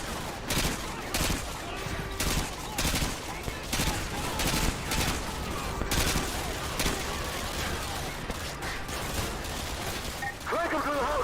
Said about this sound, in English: Squad, put suppressing fire on that house.